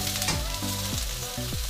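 Mushroom fries in a pan with a dense, loud hiss of sizzling oil filling the whole clip, while faint, falling tonal sweeps recur underneath; no one speaks.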